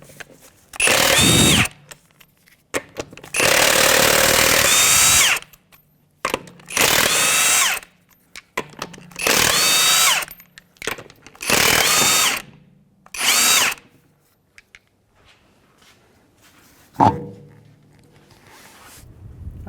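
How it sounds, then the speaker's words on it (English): Power impact tool with a 22mm socket removing a wheel from a 2011 Honda Odyssey, in five loud buzzing bursts of a few seconds each separated by short pauses, followed by a single sharp clank. "we're going to remove the wheel. We're going to use a 22mm socket."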